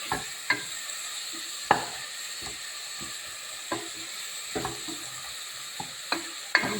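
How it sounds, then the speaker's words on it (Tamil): Tomatoes sautéing with onions and curry leaves in a pan, a steady close sizzle broken by repeated sharp stirring clicks and scrapes, with no talk. "கொஞ்சம் வதங்கட்டும்."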